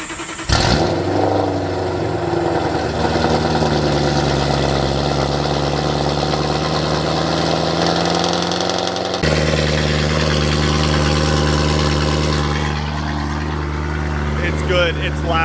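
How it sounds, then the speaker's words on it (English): A straight-piped BMW E92 M3 fires up from a cold start and settles into a loud, steady, throaty idle, close by, with a brief shift in tone partway through. "So before we get to driving, start with a nice"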